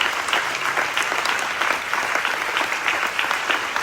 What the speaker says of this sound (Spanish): Demos un aplauso al Rey.